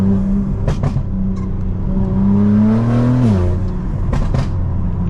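A close BMW G82 M4 engine hums, its pitch climbing then dropping sharply as it downshifts, followed by a few crackling exhaust pops and burbles.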